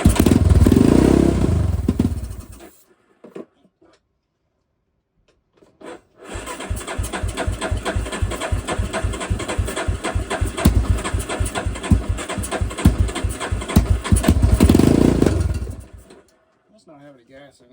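A 1996 Yamaha Warrior 350 ATV engine cranks briefly, falls silent, then fires up into a loud, close, rapid single-cylinder chugging idle with a throttle swell before cutting out; a voice is heard at the start.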